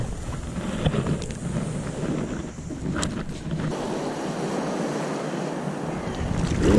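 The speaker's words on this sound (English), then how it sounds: "Fanden kommer de bølger fra?" Sea waves break at a sandbar on the Danish coast, a steady broadband surf roar with wind buffeting the microphone throughout.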